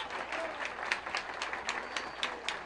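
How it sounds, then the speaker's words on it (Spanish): Schoolchildren and visitors in a Villavicencio school give warm applause, an even, mid-distance patter of many hands with occasional louder claps, continuing throughout. "Yo aquí en este colegio quiero un fuerte aplauso para el licenciado Julio"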